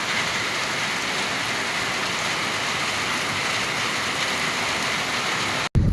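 Heavy rain pours down in a steady, dense hiss that stays loud and unbroken for several seconds, ending in a brief cut and a thump.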